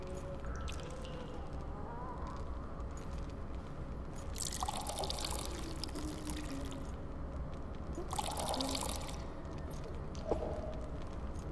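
Running water trickles and splashes continuously in The Witcher 2, with insect-like chirps in the background and a few brighter bursts of splashing that come and go, moderately loud with no voices.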